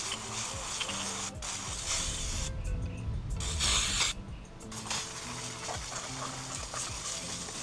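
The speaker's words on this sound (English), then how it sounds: "I'm gonna go ahead and spray it all down real quick." A few quick squirts from a spray bottle of cleaner hiss over a steady, busy background of hum and clatter, spraying down a 2003 Ford Lightning SVT supercharger.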